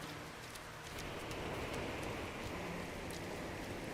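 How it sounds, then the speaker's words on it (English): Steady rain pours in a video game's superheated rainstorm, a dense continuous hiss of drops on surfaces with faint scattered taps, evenly loud throughout. "There's a superheated rainstorm."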